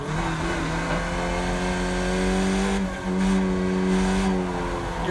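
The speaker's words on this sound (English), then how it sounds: "You're feathering the throttle all through here." A Skip Barber race car engine in iRacing at Long Beach holds a steady, loud buzzing drone as the throttle is feathered, dipping briefly in pitch and volume midway before picking back up.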